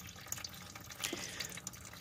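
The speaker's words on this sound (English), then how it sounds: "You see it's pouring in the pan now" Fluid from a leaking radiator on a 2002 Jeep Liberty 3.7 V6 pours steadily into a drain pan, a continuous splashing trickle with a few brighter drips, close and fairly quiet.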